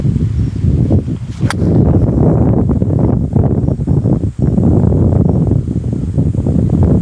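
Steady, heavy right-to-left crosswind on the Hallow Ridge golf course buffets the microphone with a low, roaring rumble that gusts and dips throughout, with no voices.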